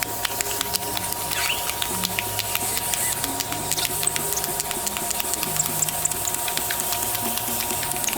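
Fine 400-grit wet-or-dry paper sanding a spinning 20-inch natural-edge pecan bowl on a lathe, giving a continuous hissing rasp over the low steady hum of the machine, close and even throughout.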